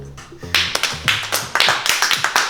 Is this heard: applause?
yes